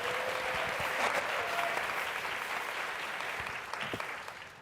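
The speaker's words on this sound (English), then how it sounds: "And a great round of applause for our full panel." Sustained applause from a conference audience greets a full panel of women in tech, a dense even clapping that stays strong and slowly tapers with no talking.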